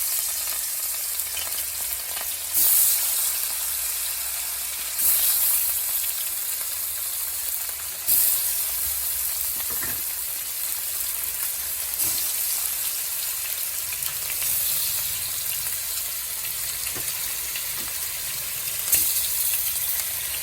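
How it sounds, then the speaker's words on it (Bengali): Fish frying in a wok in oil left from frying pointed gourd, a loud, steady sizzle and crackle running throughout, with occasional brief bursts of stirring or spatter. "এবার মাছগুলো কড়াইতে দিয়ে দেবো এই পটল ভাজার তেলের মধ্যেই দিয়ে দেবো মাছগুলো"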